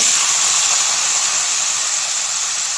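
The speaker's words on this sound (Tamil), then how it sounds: "இந்த காய்கறிலாம் போட்டு நல்லா வதக்கி விட்டுருவோம்" Vegetables with carrot, mustard seeds, cumin and two chillies sizzle in hot oil in a pan, a loud, steady, close hiss with no break and no voices.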